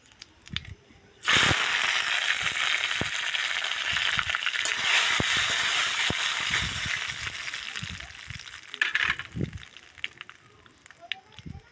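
Five-spice seeds and curry leaves dropped into hot oil, bursting into a sudden loud sizzle with sharp pops that stays strong for several seconds, then gradually fades.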